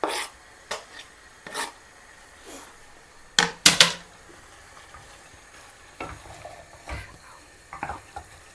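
Onion tossed into a small non-stick pan of browning meat for an extra hot chilli gives scattered scraping and stirring sounds with a soft sizzle underneath, in uneven bursts.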